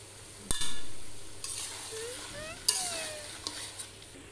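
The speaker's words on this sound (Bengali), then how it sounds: "তাহলে এবার আমি মাংসটা কষিয়ে নিই ভালোভাবে" Mutton pieces being fried and stirred in a pan for a village-style mutton curry with potato, with a sharp utensil scrape at the start and a steady sizzle underneath, plus a few knocks against the pan.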